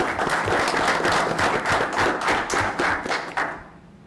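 Audience applause for a student from a health professions school at a school board meeting, dense steady clapping that tapers off at the end.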